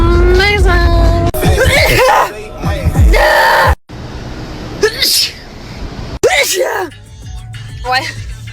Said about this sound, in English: Just sneezed all over my phone.